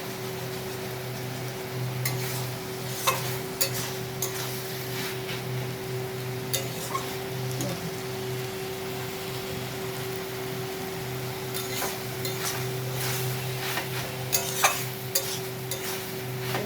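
Chichinge, potato, onion and prawn chorchori stirred in a pan, a steady close sizzle under repeated scraping strokes of a spoon against the metal, with a constant low hum throughout.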